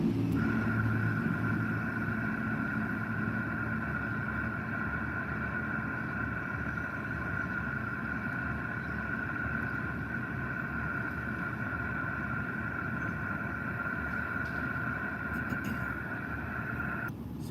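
A long string of noisy cars passes by in Puerto Rico as a steady rumbling traffic drone with an engine hum, constant and moderately loud throughout.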